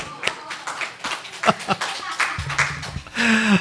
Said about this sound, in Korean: 우리 장주영 집사님께 박수로